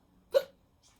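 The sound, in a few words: hiccup imitated by storyteller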